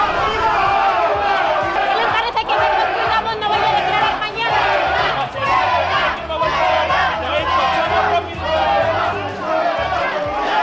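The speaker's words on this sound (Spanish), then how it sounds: "han sido recibidos entre abucheos y gritos de fuera y viva España" Crowd booing and shouting at Atocha station in Madrid as politicians arrive, a dense, loud and continuous roar of jeers and rhythmic chanted shouts without pause.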